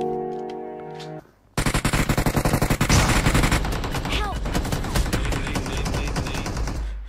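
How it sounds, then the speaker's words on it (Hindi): Shotgun blasts from a battle royale video game, a rapid string of loud, sharp booming shots in quick succession after a brief quiet pause, with echoing reports and faint game sounds underneath. "शॉटगन की पावर दिखा दी इसने"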